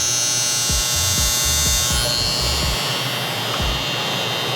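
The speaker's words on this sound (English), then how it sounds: "So I didn't do a sound test on the trimmer." A cordless BaByliss FX One hair trimmer buzzes steadily with a constant high hum, running on its own with some faint low knocks underneath.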